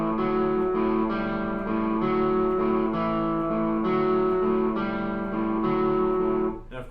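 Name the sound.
guitar blues shuffle pattern with swing feel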